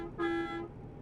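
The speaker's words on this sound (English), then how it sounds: "I don't really like the air horns that's on it either." A single short blast from the air horn of a DAF truck in TruckersMP, a bright tonal honk lasting about half a second and clear against quiet engine rumble.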